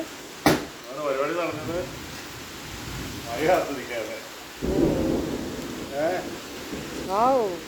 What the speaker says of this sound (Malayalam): ഗംഭീര ഇടിയും മഴയും.